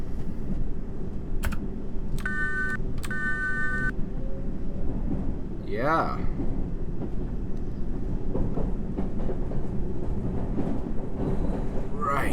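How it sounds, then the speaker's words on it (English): A Circle Line subway train in a London Underground simulator pulls away and runs, with a steady rumble under chimes and beeping door tones early on, a rising whine, and a brief spoken word over the noise. "This train is ready to depart."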